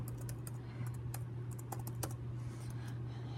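Typing on a computer keyboard, close and quiet, with irregular clusters of light key clicks over a steady low electrical hum.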